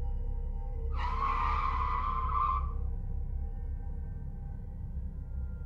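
Car tires skidding under hard braking, a single loud screeching squeal of about a second and a half over a low steady engine rumble, close and without talk.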